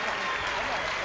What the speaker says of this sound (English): Let's have a nice round of applause for the Kentucky Headhunters.